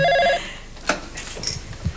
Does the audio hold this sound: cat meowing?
no